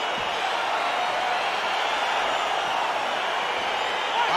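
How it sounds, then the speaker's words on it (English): Steady, dense crowd roar from a UFC 4 video game arena as a heavyweight tournament bout gets underway, a continuous broad wash of cheering at even loudness throughout with no distinct voices standing out. "crowd getting excited as this fight gets underway"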